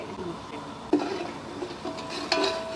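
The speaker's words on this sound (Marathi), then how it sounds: "आता मी कांदा टाकते ठीक आहे हा बघा कांदा कांदा लाल होईपर्यंत भाजून घ्यायचा" Onions frying in a pot with whole spices while being stirred, a soft steady sizzle with scraping clinks of the spoon against the metal, and faint voices in the background.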